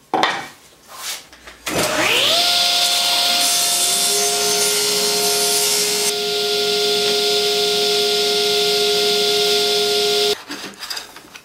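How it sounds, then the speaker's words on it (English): A wooden runner for a table-saw miter slot being ripped on a power saw: the blade spins up, then cuts steadily and loudly for about eight seconds with a sustained whine before stopping abruptly. "So here I'm just going to cut a runner for the miter slot to fit on this board here."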